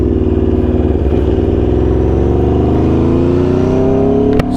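An Aprilia RSV4 motorcycle engine hums steadily and loudly up close, its pitch rising gradually as it revs, with a brief click near the end.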